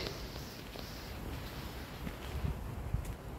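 Strong, cold wind buffets the microphone on a mountain hiking trail, a steady roar of low rumble and hiss with faint rustling and a few soft footsteps, no voices.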